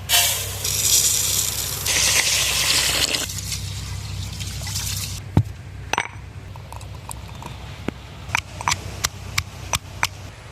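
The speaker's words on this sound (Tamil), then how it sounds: "இப்போ நம்ம பிரியாணி செய்ய அரிசியை ஊற வச்சுக்கோம்." Water poured over rice to soak it for mushroom biryani in a village kitchen: a rushing, splashing pour for several seconds, then scattered light clinks and taps of utensils.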